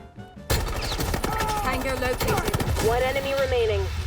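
Rapid gunfire in the mobile tactical shooter Rainbow Six Mobile, quick repeated shots starting abruptly after a short silence and continuing in bursts, mixed with game music and effects.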